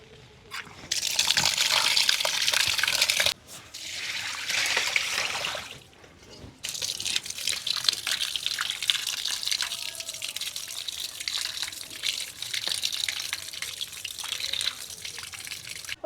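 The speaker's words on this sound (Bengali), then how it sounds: "এবারে মাংসটাকে আমি পরিষ্কার করে ধুয়ে নেব।" Pieces of country chicken are washed under running water, a close splashing and trickling flow that comes in bursts with short gaps, loud and busy with no voices.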